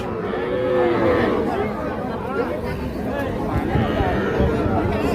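Young bull calves under three months old moo repeatedly amid a noisy crowd at a cattle market in Bangladesh, their low calls rising over steady chatter from many people nearby.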